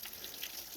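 Rain falls on snow in a house driveway on Gordon Hill Road, a soft, even, continuous hiss with faint scattered drip ticks and no voices.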